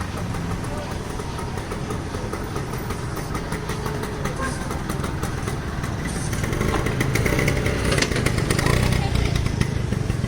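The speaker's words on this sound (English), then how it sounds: "Vespa, not a good scooter, always need fixed." A Vespa scooter engine runs steadily with a broadband rumble that grows slightly louder toward the end, mixed with street noise and traffic.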